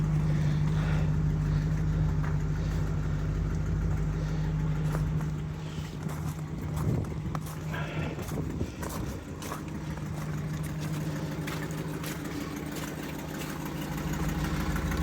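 A family car's engine idles steadily with a low, droning hum and a faint tonal whine, close by. The level dips briefly partway through amid some rattling and knocks, then the idle continues evenly.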